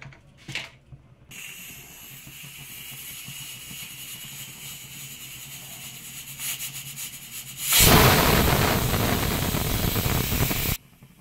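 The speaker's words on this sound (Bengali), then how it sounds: "এইভাবে পরপর 5টা সিটি দিয়ে নেব।" A pressure cooker on the stove boiling banana stem with a little water and turmeric hisses steadily, then releases a loud, sustained whistling blast of steam lasting a few seconds before cutting off.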